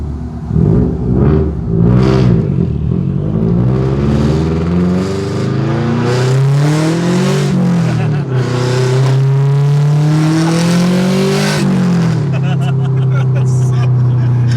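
A 2015-2020 Subaru car engine with a Tomei Expreme titanium exhaust revving loudly up and down in repeated roaring bursts with a raspy exhaust note, close by.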